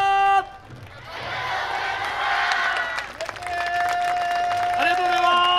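Warm crowd applause at the main stage of the 15th Kamisu Maccha-ge festival following a Naruko group's dance, dense clapping swelling after a brief tone, joined later by a sustained synthesized note and some voices.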